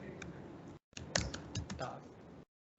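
Keys clatter on a computer keyboard in quick irregular bursts, close and fairly quiet, broken by short pauses, with faint speech mixed in.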